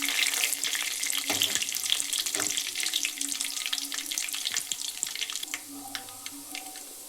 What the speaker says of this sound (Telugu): కొద్దిగా జీలకర్ర వేసి ఫ్రై చేసుకోవాలి.